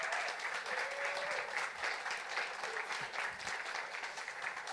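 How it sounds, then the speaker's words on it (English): Sustained audience applause fills a hall after a talk, dense steady clapping from many hands, fairly close and continuous throughout with no talking over it. "Huge round of applause."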